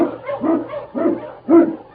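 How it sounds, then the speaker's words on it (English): A husky sled dog, an Eskimo lead dog in a Yukon radio drama, barks in four loud, evenly spaced woofs over about two seconds, close and alone with no talk. "King, the swiftest and strongest of Eskimo lead dogs, blazes the trail through storm and snow"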